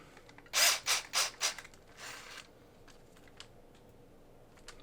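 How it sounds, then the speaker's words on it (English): A handheld drill drives screws into an RC drift car chassis, a Rhino Racing Shark build: four quick close whirring bursts in a row, then a softer one, followed by quiet. "Using my trusty drill."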